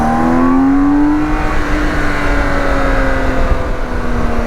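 A BMW K1600 GTL motorcycle accelerates hard, its smooth engine whine rising loud and close before easing slightly, steady under rushing wind, with no voices.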